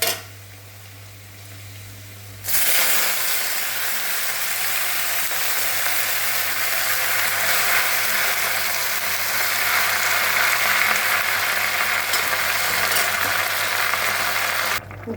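Vegetables and spices fry in a pan for a fish curry, a dense crackling sizzle that starts abruptly after a quiet hum and runs steadily, close and strong, until a brief drop at the end.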